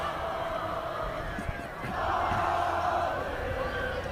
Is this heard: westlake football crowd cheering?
yes